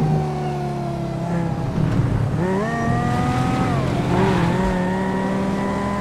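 Honda Civic engine in GTA 5, a steady revving drone rising and falling in pitch as the car accelerates and shifts, with faint tire noise, close and continuous with no talk.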